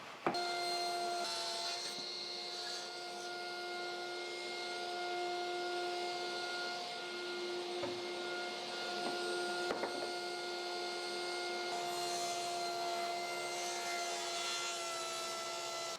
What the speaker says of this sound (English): I need my big crosscut sled for taking the top down to 40 inches.